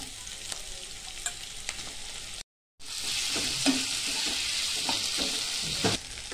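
Chopped onion sizzles steadily in hot oil in a kadhai, with repeated clinks and scrapes of a ladle stirring it; the frying stays continuous and close apart from a short break of silence partway through.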